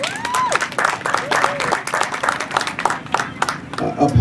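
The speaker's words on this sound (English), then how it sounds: "Let's get them a round of applause." An audience at a community greeting event in Orlando, Florida applauds with a dense, continuous patter of clapping, close and fairly loud, while a few voices call out and cheer over it.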